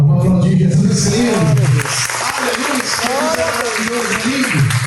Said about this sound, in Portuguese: Vamos aplaudir Jesus, Senhor.